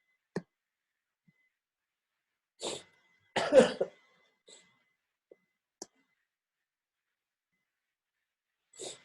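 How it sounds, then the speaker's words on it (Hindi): Several coughs come one at a time, with one harsh cluster in the middle and long quiet gaps between them. "खांसी लगी है, ठंडक लगी है।"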